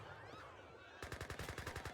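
A Gatling gun in a real-time strategy battle fires a rapid, evenly spaced burst of rounds. It cuts in sharply after a second of busy game ambience and stays loud and rhythmic to the end.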